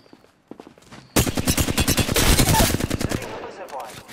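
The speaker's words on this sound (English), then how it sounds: "I am taking fire, friends." Rapid automatic gunfire in a video game rattles off in a long, dense burst after a few scattered quieter shots, loud and close, then trails off near the end.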